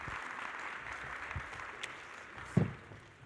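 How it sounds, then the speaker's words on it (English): A conference audience at the Uganda Development Finance Summit applauds a panel with steady, soft, distant clapping throughout, and one sharper clap stands out near the end. "let's put our hands together and appreciate this panel"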